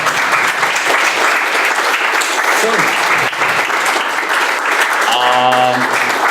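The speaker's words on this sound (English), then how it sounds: "Please give a round of applause to Oliver Holle." Sustained applause from a startup event audience for speaker Oliver Holle at Startup Grind Bratislava, steady and full throughout, with a brief tonal chime near the end.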